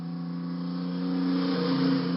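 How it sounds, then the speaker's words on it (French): Container truck driving along a road, a steady, loud engine drone with a low rumbling hum that builds slightly, heard alone without talk. "Camion. Il est souvent acheminé par la route jusqu'à son point de livraison final."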